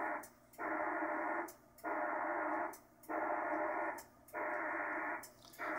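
PACTOR 4 modem data bursts over a 40 meter amateur radio path exchange with a Winlink RMS station, coming as four regular blocks of loud, dense hiss-like digital noise split by short quiet gaps and brief clicks.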